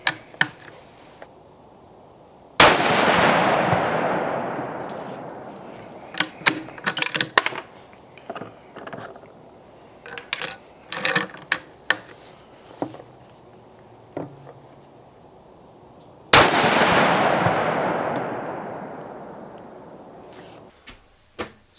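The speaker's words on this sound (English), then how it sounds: "I'm going to fire the last 2 shots to make sure it's right back" Two loud rifle shots from a rifle fitted with a Delta Stryker HD 5-50x56 scope crack about fourteen seconds apart, each followed by a long fading echo, with metallic clicks and handling noises in between.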